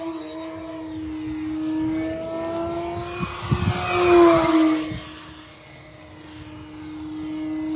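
An Arrows Husky Ultimate 1.8m RC plane runs at full throttle, its steady motor whine swelling louder as it passes close, then fading back to a softer drone.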